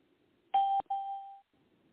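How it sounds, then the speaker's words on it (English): A single electronic chime gives a short two-note ding-dong, the first tone clipped and the second ringing out briefly before fading, heard clearly against near silence. "I just want to turn off those chimes."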